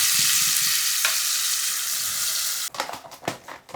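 Homemade masala paste fries in a hot pan with a loud, steady hiss that drops away near the end, followed by a few close scraping stir sounds.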